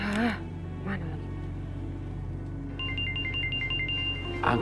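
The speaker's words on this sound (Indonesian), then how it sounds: "Angkat tuh telepon tuh." A mobile phone ringtone plays a repeating melodic pattern at moderate volume over a steady low background hum, with brief voices before and after it in an indoor drama scene.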